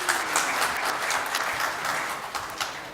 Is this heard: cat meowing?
no